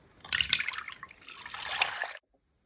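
Chilled 33% fat cream is poured into a bowl, giving a soft, close trickling and splashing pour that lasts about two seconds and then stops into silence.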